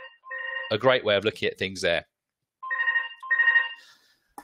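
A mobile phone rings with two bursts of a repeating electronic tone, separated by a short pause, clear and close; someone speaks briefly between the rings.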